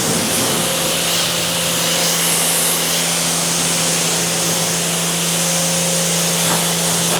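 Water spraying and rinsing soap off a flat vehicle panel and roof, a steady loud hiss running continuously throughout with a constant low machine hum beneath it.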